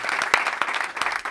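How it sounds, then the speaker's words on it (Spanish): A studio audience on a Spanish comedy show breaks into a short burst of applause, close and lively, lasting just over a second. "pido un aplauso para él"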